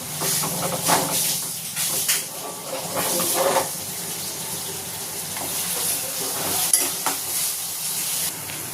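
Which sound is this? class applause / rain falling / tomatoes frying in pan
tomatoes frying in pan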